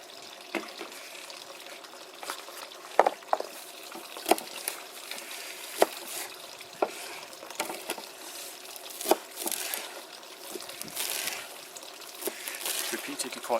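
Goose grass being washed by hand in water: soft splashing and trickling with irregular small drips and sloshes, fairly quiet and close.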